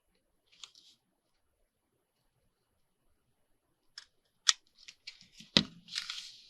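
Scissors cutting packaging material, a faint snip early on, then a cluster of crisp close snips and rustling plastic after a long quiet pause.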